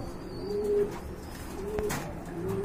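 Racing pigeons of the red checker variety coo softly in a few drawn-out calls, close by against quiet background rustle, with no talking.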